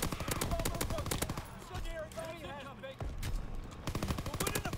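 Shotgun fire in the World War II shooter Call of Duty WW2: rapid, loud bursts of blasts in quick succession, a short lull with scattered effects, then more heavy firing resuming.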